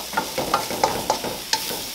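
Shrimp and broccoli stir fry sizzling in a pan under a steady frying hiss, with rhythmic scrapes and clinks of stirring every few tenths of a second, close up.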